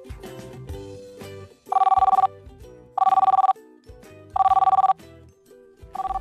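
A telephone rings loudly and close in four regular bursts of bright electronic trilling, with quieter, muffled sounds in the gaps between rings.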